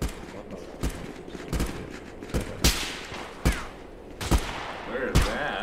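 Sniper rifle shots in the Contractors VR video game: about seven sharp, loud cracks spaced roughly a second apart over a low ambient hum, with some faint speech.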